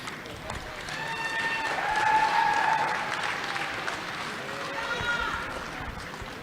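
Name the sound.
commencement audience applause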